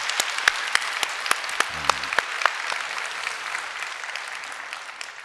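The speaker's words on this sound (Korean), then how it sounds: "우리 하나님께 한번 우리 감사의 박수 올려드리겠습니다" A church congregation claps together during a Korean Sunday worship service, a fairly even wash of applause with a few sharper individual claps standing out near the start.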